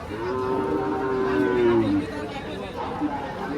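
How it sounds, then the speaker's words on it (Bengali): A large cow lows in a long, loud moo at a busy Bangladeshi cattle market during Eid trading, with crowd chatter and voices of traders around it. "এটা হলো বড় সার গরু"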